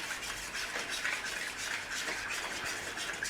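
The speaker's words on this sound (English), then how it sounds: "We're going to give that a mix." Sweet and sour sauce of brown sugar and pineapple juice mixed in a bowl, a faint, steady brushing and scraping hiss that runs continuously without pauses.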